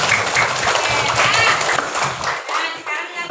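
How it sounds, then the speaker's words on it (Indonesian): Schoolchildren in a classroom clap their hands at the teacher's prompt, a burst of mixed clapping with young voices over it, thinning out toward the end. "Tepuk tangan semuanya Anak Ibu"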